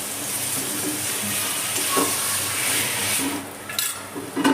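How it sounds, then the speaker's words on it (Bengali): Panch phoron chicken curry sizzles steadily in a pan over a high-medium gas flame, and a spoon stirring it adds a few scraping knocks and clanks toward the end. "আমি আবার একবার নেড়ে দেবো।"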